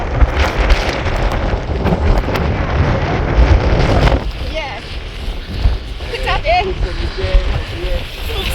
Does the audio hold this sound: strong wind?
yes